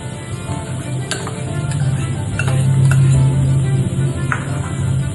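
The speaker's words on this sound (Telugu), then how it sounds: "క్యారెట్ ని కూడా మిక్స్ చేసుకుంటున్నా." Grated carrot stirred with onion and capsicum in a pan on a steady sizzle, with a spoon scraping and occasional clinks against the metal, close and fairly loud.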